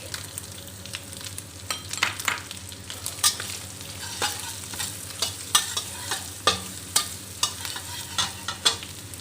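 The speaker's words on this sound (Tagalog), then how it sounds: "Fry lang natin hanggang mag-golden brown yung ating onions and garlic." Garlic, onions and dried prawns frying in a pan, with a steady sizzle under regular scraping stirs, close and fairly quiet, and no talk.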